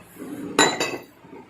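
Dishes clink twice in quick succession, close and sharp, as a cut mixed spicy Thai salad (yam ruam mit) is put onto a prepared plate in a kitchen.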